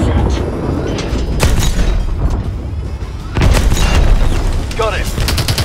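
Cannon fire hitting tanks in Call of Duty: Advanced Warfare, with loud booming blasts and rumbling explosions over dense battle noise, a heavy impact landing partway through.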